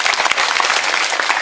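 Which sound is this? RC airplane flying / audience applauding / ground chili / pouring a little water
audience applauding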